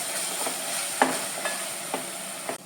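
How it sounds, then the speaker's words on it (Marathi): Green masala roasting with cooked onion and tomato in a pan for a Karwar-style coconut chicken curry: a steady soft sizzle with a few distinct spoon clinks and stirring scrapes against the pan, no talking. "आता तितून आम्ही ग्रीन मसाला घालून घेया। हो बरो भाजून घ्या"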